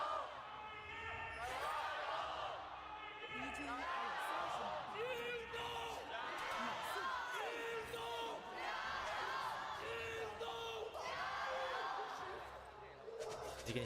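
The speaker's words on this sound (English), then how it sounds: "You can hear the home crowd of Beijing cheering on JD Gaming here a little bit." A Beijing home crowd cheering and roaring steadily for JD Gaming in a large esports arena at an LPL match, heard under continuous excited commentary.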